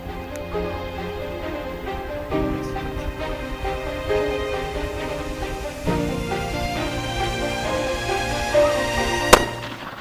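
A single sharp, loud rifle shot rings out during a fair-chase hunt in Namibia, Africa. It comes near the end after a stretch of quieter outdoor sound.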